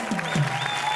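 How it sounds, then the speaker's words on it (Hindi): A brief burst of applause from a TV studio audience clapping together, moderately loud and steady throughout. "जोरदार तालियां"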